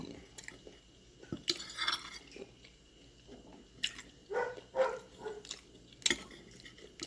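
Bitter gourd cooked with sausage and egg being chewed with a crunch, scattered bites and soft mastication sounds close up across several seconds, fairly quiet with no talking.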